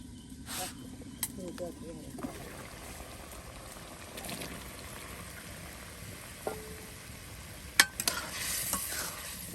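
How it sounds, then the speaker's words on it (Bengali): Spicy chicken curry with potatoes being stirred and sautéed in a pot, a low continuous sizzle with scattered utensil clinks and scrapes, a few sharper knocks near the end, and voices in the background. "বা এখন সব কিছু একসাথে কষানো হবে।"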